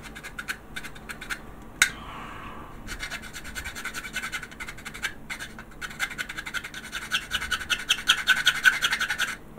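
A plastic model kit part for an AMT Ecto-1 being filed or scraped up close, a harsh rasping scratch in quick repeated strokes that grows louder and busier toward the end.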